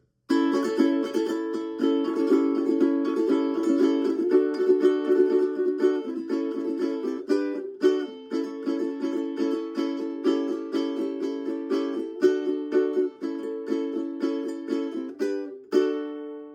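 Steady ukulele strumming of bright chords in a regular rhythm, close and clear, with occasional pauses between chord changes, no voices.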